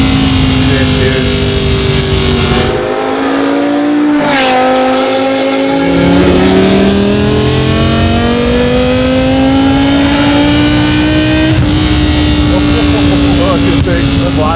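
A loud V10-swapped BMW E46 M3 revs hard and accelerates up through the gears, the engine note climbing and dropping with shifts from inside the car, with occupants talking over it.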